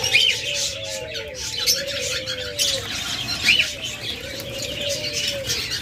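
Lovebirds at a bird sale give repeated short chirps and calls, several overlapping bursts over steady background chatter and room noise.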